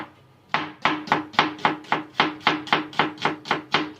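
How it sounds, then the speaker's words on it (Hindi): A knife slices an onion on a cutting board during home cooking prep for a Spanish omelette, making about a dozen crisp, evenly spaced chops, close and clear, with no voices. "अनियन काटेंगे हम"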